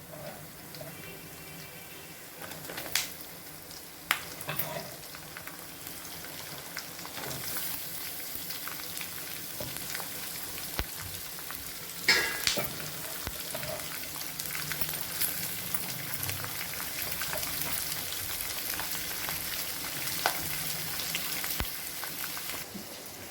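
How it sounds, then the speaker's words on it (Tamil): Onions frying in oil for narthangai (citron) rice give a steady, crackling sizzle like light rain, with a few sharper pops, close by and without talk. "ஆனியன் போட்டுப்போம்."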